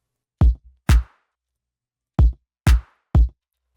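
Five sharp, bright pitched-up clap samples in Ableton Live ring out alone with uneven gaps between them, each crisp and short with a quick decay.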